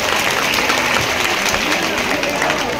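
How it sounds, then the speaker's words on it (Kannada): Devotees at a Hanuman temple kalasharohana ceremony in Japurawadi village clap in a dense, loud, continuous wash of applause lasting the whole moment, with crowd voices mixed underneath. "ನಿಮ್ಮ ಕೈಯಿಂದ ಜೋರಾದ ಚಪ್ಪಾಳೆ ಇರಬೇಕೆಲ್ಲರೂ"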